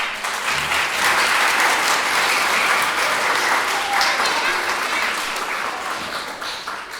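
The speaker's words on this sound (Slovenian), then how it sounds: "To pa še en aplavz." A crowd at a regional theatre group festival breaks into loud, continuous applause, a thick texture of many clapping hands that stays strong throughout and eases slightly toward the close, with faint voices mixed in.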